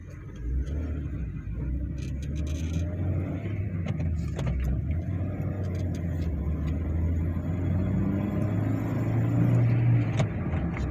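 Engine of a 2006 Honda Jazz pulling away from a stop in first gear onto a main road, a steady low hum building slightly in loudness, heard from inside the cabin with no talk.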